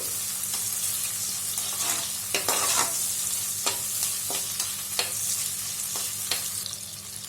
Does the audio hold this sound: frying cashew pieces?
yes